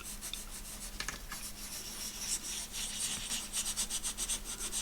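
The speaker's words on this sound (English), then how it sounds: "I need my embossing dauber and just go over the numbers." An embossing dauber is rubbed over stamped numbers on a floral grunge concertina journal page, giving a soft, continuous scuffing rub with quick repeated strokes toward the end, close and fairly quiet.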